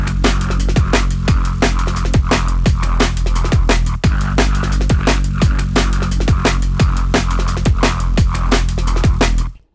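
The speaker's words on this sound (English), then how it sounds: "the final sound that I've created today, along with some drums, is a bass that sounds like this" A heavy synth bass built with Vital and Phase Plant plays with drums, punchy kicks with downward pitch sweeps hitting in a steady driving rhythm under a thick, sustained bass, loud and close, ending abruptly.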